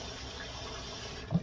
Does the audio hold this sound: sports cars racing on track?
no